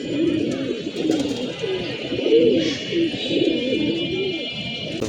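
Several pigeons in a loft coo steadily in overlapping, rolling phrases that fill the whole stretch, with a faint high hum in the background.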